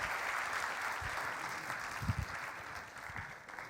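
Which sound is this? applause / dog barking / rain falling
applause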